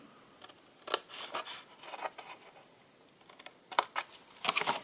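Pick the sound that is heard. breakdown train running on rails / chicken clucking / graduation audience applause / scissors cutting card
scissors cutting card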